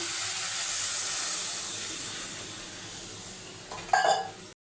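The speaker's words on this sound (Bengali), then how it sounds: "ঝোল ফুটে গেছে, মাছ আর পটলটা দিয়ে দেবো।" A pot of fish curry gravy with fish and pointed gourd boils and steams with a steady hiss, and a brief clatter of a utensil comes near the end before the sound cuts off.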